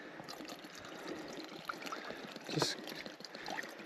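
Captain Morgan rum trickles softly into a container outdoors on the Appalachian Trail, a faint, steady pour with a brief spoken word over it.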